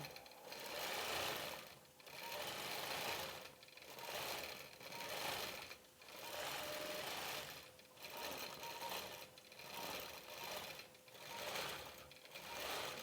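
A sewing machine stitches quilting through layered fabric in a steady, fast whir, running in bursts of about two seconds with brief pauses between them and no talk.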